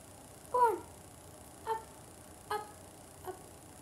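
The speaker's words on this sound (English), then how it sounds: "I got something for you. And it's a cat." A cat gives four short meows spaced about a second apart, the first loudest and the rest fading, close by in a quiet room with a faint steady hum.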